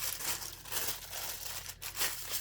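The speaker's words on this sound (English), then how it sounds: "let's go ahead and get into this package" Crinkly tearing of a plastic craft haul package being pulled open by hand, continuous rustling and ripping at close range with brief pauses, no talking.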